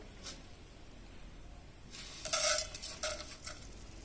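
Urad dal, chana dal and coriander seeds dry-roast in a pan, a faint crackle that turns into a few louder scraping rattles of the stirring spoon partway through, with no talk.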